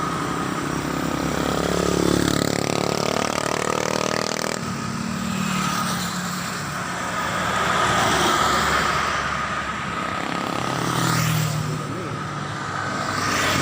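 An overheating motorcycle engine hums steadily and loudly throughout, its pitch rising and falling slightly with throttle, with wind noise on top.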